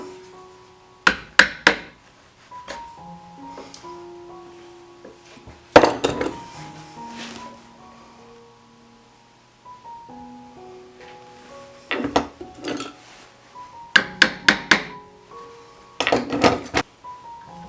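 An awl being tapped into wood to start a pilot hole, with clusters of sharp near knocks and clinks separated by quieter ringing gaps.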